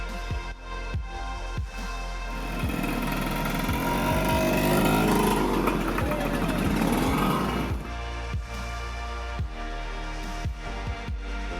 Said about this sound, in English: a group of friends on old vintage scooters rolled into town.